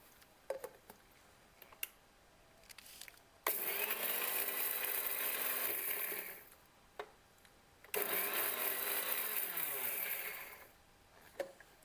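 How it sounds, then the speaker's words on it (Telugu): A kitchen mixer grinder blending roasted gram, salt and dried coconut into putnala podi, running in two loud bursts of about three seconds each with clicks and quiet pauses between them. "దీన్ని మిక్సీ పట్టేద్దాం."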